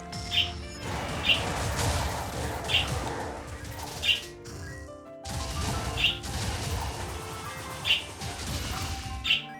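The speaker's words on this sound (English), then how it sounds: "Excited bird!" Excited falcon familiar from the Blurring Falconry spell in Wizard of Legend gives short bright chirps, about seven spaced calls over steady game clatter and crashing effects, with a brief gap midway.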